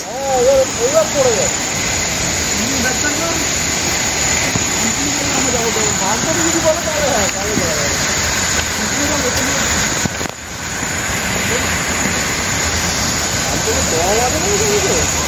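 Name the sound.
Upper Ghaghri Falls waterfall, high water pressure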